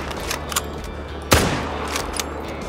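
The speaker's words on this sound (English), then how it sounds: "I'm gonna shoot that," A single sharp rifle shot rings out at a bighorn sheep in the Call of the Wild hunting game, a loud crack that decays quickly over a steady outdoor ambience.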